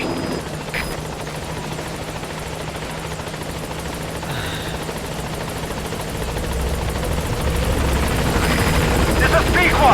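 The Pequod transport helicopter in Metal Gear Solid V approaches its landing zone, rotors thrumming in a constant, gradually swelling roar, with a radio voice talking over it.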